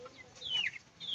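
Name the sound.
General Shamo chicken clucking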